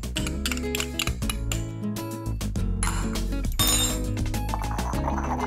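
Caesar dressing of mayonnaise and crushed garlic being stirred in a bowl, with quick clinking and scraping strokes close by, steady and fairly loud, with no voices.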